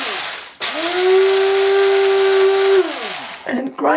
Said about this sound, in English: the easiest way to do that is to have a little coffee grinder